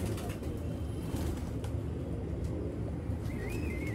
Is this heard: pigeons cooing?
yes